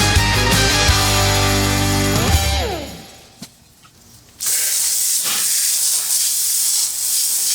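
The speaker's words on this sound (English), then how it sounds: "It's almost completely cleaning the wheel just by rinsing it" A water spray hisses steadily as it rinses wheel cleaner off a car wheel, with a mechanical hum fading out before the loud, continuous spray resumes.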